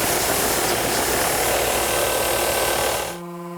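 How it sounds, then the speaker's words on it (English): Orbital sander fitted with 180-grit paper buzzing steadily against the bottom of a wooden box, a loud, dense mechanical whir for about three seconds before it cuts off and only a faint hum remains. "So now I'm going to sand the bottom."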